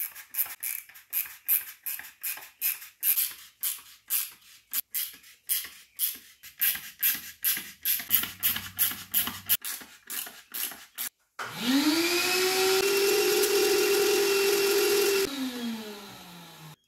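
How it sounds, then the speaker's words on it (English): A hand tap cuts threads into a plastic intake manifold for a BMW E46, a rhythmic series of short scraping creaks, followed by a separate loud whirring motor run that fades out. "So all we have to do is tap the holes."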